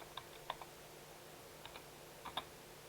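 Sparse, faint clicks of keys typed on a computer keyboard while a Java program is entered in a text editor, a few separated taps over a quiet hiss.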